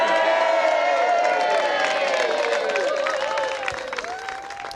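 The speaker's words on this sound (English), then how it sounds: "Give them all a cheer." An outdoor crowd on Anglesey cheers, whoops and claps as three charity walkers set off on a 130-mile walk, a loud blended roar of voices and applause that eases slightly near the end.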